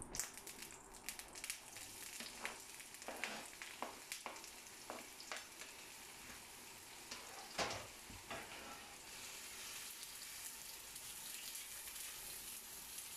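Onions drop into hot oil in a pan and fry with a quiet, continuous sizzle, broken by occasional crackles and stirring clatter, with no talking.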